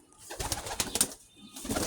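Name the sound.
pigeons cooing in their pigeon house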